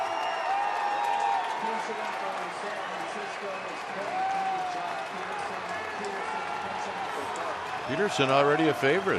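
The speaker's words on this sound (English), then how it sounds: "Listen to this crowd." Baseball stadium crowd roaring for Joc Peterson at a Rockies–Giants game, a sustained loud cheer filling the whole clip and swelling near the end, with a commentator talking over it.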